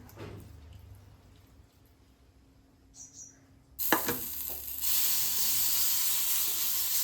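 Fasting dosa batter hits a hot oiled pan and breaks into a loud, steady sizzle that starts suddenly and keeps hissing close up after a few quieter moments of soft handling noise.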